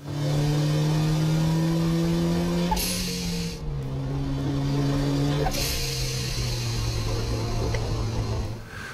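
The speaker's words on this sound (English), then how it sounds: "that is the loud blowdown sound that you often hear from the turbos when the driver quickly closes the throttle" A loud twin-turbo car engine drones steadily, its pitch stepping down as the throttle lifts, with bursts of hissing air from the blow-off valve venting at intervals.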